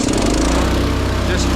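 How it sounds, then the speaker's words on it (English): A small engine idles low and rough with the choke on, a loud, close, steady drone that fills the whole moment, heard on a frosty roof repair job with no speech over it. "it'll always have a low idle when the choke's on"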